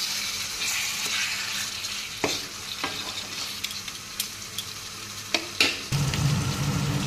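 Spices for chickpea dal are slowly sautéed in a pan, giving a soft continuous sizzle broken by occasional scrapes and taps of a spatula, close by and with no talking.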